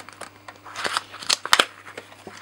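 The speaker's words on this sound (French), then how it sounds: "J'ouvre l'enveloppe." A paper budget envelope being opened, giving close, crisp crackles and rustles in a short cluster of small tearing and crinkling sounds.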